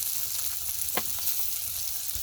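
Meat frying in oil with garam masala and chopped onion, a continuous loud sizzle with occasional stirring clicks, close and steady without speech.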